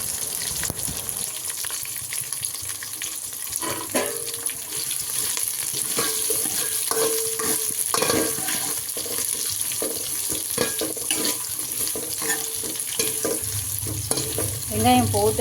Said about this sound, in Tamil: அடுத்து கட் பண்ணி வச்சுருக்கிற வெங்காயத்தை சேர்த்துக்கலாம்.